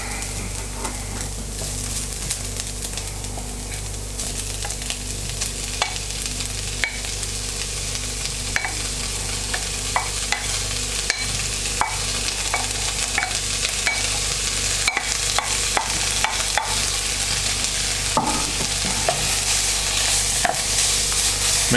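Bacon sizzles in a pan of St Helena corned beef hash with chilli, a steady, bright crackle throughout, punctuated by scraping clicks as the mixture is stirred.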